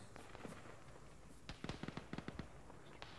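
Grenade detonation in the Arma military shooter, heard as a quick scatter of sharp cracking pops, a distant crackling burst that rises briefly over faint background noise.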